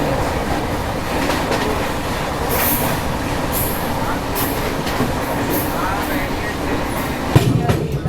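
The Gondia–Kolhapur Maharashtra Express rolls along the rails with a steady, loud rumble and a faint rhythmic clack, and a sharper knock near the end.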